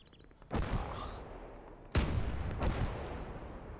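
Two sharp, loud sniper rifle shots in a video game duel between snipers, about a second and a half apart, each followed by a rumbling echo that lingers under the next.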